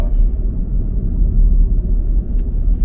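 Fire-damaged 2013 Chevy Equinox driving, a steady low rumble of engine and road noise heard from inside the cabin with no talking.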